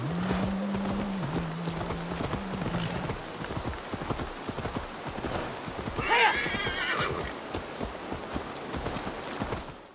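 A horse neighs and its hooves clop in Assassin's Creed Valhalla. A steady stream of hoofbeats runs under rain and water, with a loud whinny partway through and a brief low tone near the start.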